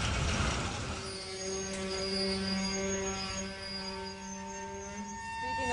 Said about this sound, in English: Of the roar of the train, you can hear it right next to me right now